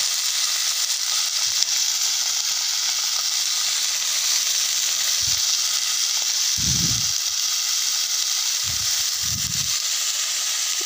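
Leafy greens (shak) sizzle in a hot frying pan with a steady, loud, continuous hiss throughout, broken by a few soft low bumps as the greens are added.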